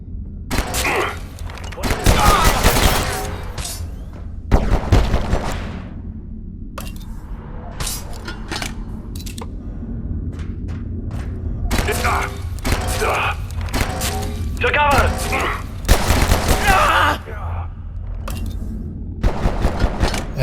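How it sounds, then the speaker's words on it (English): Video game gunfire, a run of sharp shots and thuds scattered through the stretch with louder clusters, mixed with game effects and a person talking between bursts. "Every one of these shots is upping my accuracy"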